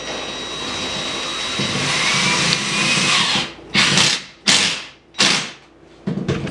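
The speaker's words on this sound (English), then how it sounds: "You're just going to drill from the front." A power drill drives 2-inch construction screws into a 2x4 board for a wood wall, a long steady whir followed by several short bursts and pauses, loud and close.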